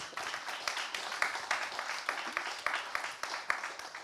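An audience at an art-and-science talk gives a fairly quiet round of applause, individual claps standing out in an uneven patter at moderate distance.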